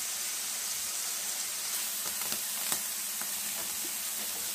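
Paneer fries in hot oil in a pan with a steady, dense sizzle and hiss, broken by a few faint clicks of stirring; close and even throughout, with no talking.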